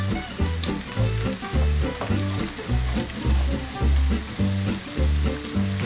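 Potato and cheese galette frying in an uncovered pan, a loud continuous sizzle and crackle with a pulsing, rhythmic pattern close up, no talking.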